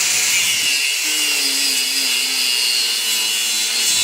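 Power saw or cutoff tool chopping through a metal bicycle frame, a loud, continuous high-pitched grinding whine sustained for a few seconds without pauses, close up.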